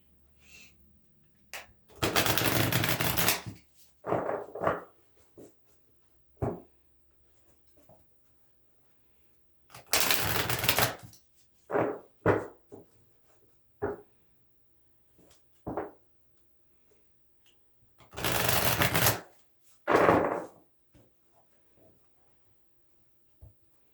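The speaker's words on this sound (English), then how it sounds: "I'm going to shuffle one more time." Tarot cards shuffled by hand in a quiet room: three bursts of riffling crackle, each a second or so long, followed by scattered soft taps and slides of cards being squared and set down.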